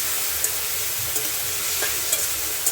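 Vegetables and green peas stir-fry in a pan for fried rice, giving a steady close sizzle broken by a few soft stirring scrapes, with no one talking.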